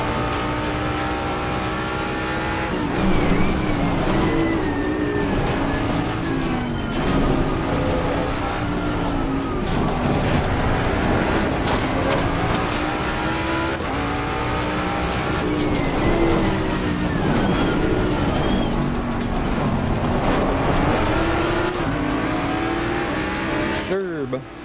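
Race cars in Assetto Corsa Competizione roar past in a steady, loud engine drone with rising and falling revs and gear shifts, several cars close together throughout, with a voice speaking over the engines.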